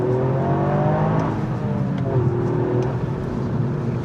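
A 2021 Toyota GR Yaris hot hatch with a three-cylinder engine revs under load, a steady loud drone with whirring, rising and falling tones that fill the whole stretch.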